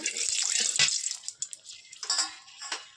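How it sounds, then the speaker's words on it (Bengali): Ground mustard paste being mixed with water for a Bengali fish curry, a close sloshing, splashing wet swirl with a few bursts, running continuously for a few seconds. "আমি সর্ষেটা ভালো করে জল দিয়ে গুলে নেব"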